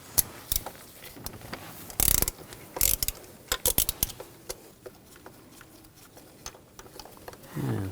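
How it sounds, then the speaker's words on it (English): A hand ratchet with a 5/8 spark plug socket loosens a spark plug on a 2000-2006 BMW X5 3.0L inline-six, giving several short bursts of rapid clicking separated by pauses, close and fairly quiet. "Now, using a 5/8 spark plug socket, you want to take the spark plug out."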